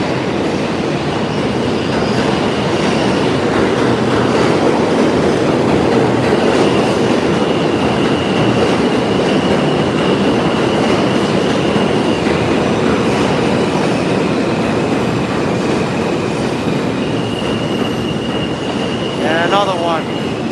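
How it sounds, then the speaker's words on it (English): NYC subway train pulling into the 5th Avenue station, a loud sustained rumble of wheels on rails with a squeal near the end and faint background voices. "Here comes another train."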